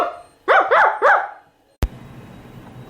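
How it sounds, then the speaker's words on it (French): A small puppy yaps three quick times in a row, close and sharp, followed by silence and then a faint thump with low background hiss. "Soudain, il entendit japper."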